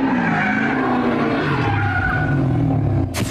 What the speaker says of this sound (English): it was very easy to place the sounds of the car